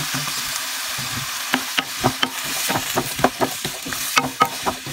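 Ground pork fries in olive oil while a utensil stirs it, giving a steady loud sizzle under repeated scraping strokes and clacks against the pan.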